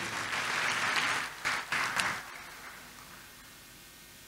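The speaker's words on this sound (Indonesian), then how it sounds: "tepuk tangan dulu yang meriah buat Tuhan." A church congregation claps loudly in a sustained burst during a Sunday service, the applause fading out over a few seconds before near silence.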